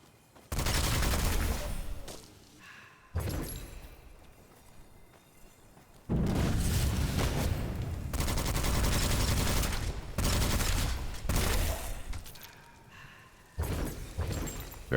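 Gunfire aimed at the player in the first-person game Witchfire, coming as loud, dense bursts of rapid shots separated by quieter gaps, with little talk over the firing.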